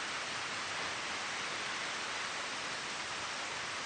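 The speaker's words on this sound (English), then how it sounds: "Azusa, let's stay here until the rain stops." Steady heavy rain in a visual novel game, a dense, even hiss of downpour with no breaks or other sounds throughout.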